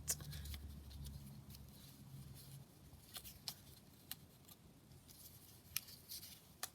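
Paper being torn by hand for ephemera clusters, faint crisp rips and small rustling snaps scattered across a quiet room, close and sparse with a low hum at the start.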